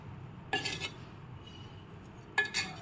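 A spoon stirs spices into ivy gourd and potatoes in a pressure cooker on the stove, making two brief, soft metallic scrapes with a quiet pause between them.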